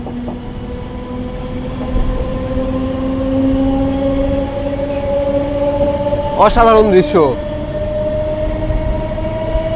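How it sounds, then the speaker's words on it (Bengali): An Azimganj–Berhampore Court MEMU passenger train rolls slowly toward the 319 m Nasipur rail bridge with a steady low rumble and sustained tonal hum, broken briefly by a sharp squeal near the end, while someone speaks over it. "আর ঠিক দেখতেই পাচ্ছেন কত সুন্দরভাবে ট্রেন ধীরে ধীরে এগিয়ে চলেছে সামনে।"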